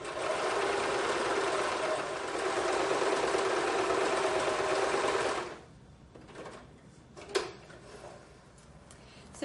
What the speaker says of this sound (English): we're going to sew around the whole top of the skirt and create our little pocket